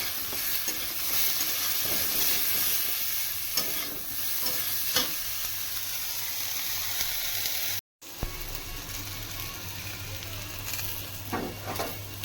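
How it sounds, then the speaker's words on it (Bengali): Eggplant frying with salt and turmeric in a wok, a steady close sizzle with periodic scraping stirs, a brief dropout near the eight-second mark, then sizzling resumes with more stirring; nobody speaks. "বেগুনের সঙ্গে দিয়ে হালকা করে ভেজে নেবো বেগুনটা"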